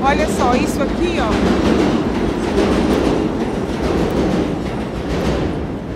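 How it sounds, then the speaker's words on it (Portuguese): Subway train rumbling beneath a New York City street, a loud continuous roar with rhythmic clatter and brief squeals early on, while a voice talks over it. "Esse barulho que vocês estão escutando, gente, é um metrô que passa aqui embaixo."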